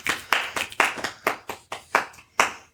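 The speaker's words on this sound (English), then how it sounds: "Golf clap, yeah." A handful of soft, deliberate golf claps from a few people on a couch, spaced in a slow uneven rhythm of about ten distinct claps, close and fairly quiet.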